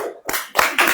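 An audience at a church sermon gathering claps in a few loud, close bursts separated by brief gaps, with no talk over it.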